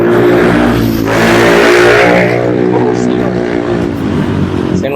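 A car engine revs loudly in street traffic, its roar swelling near and then easing into a steady mid-pitched drone with other vehicle noise behind it.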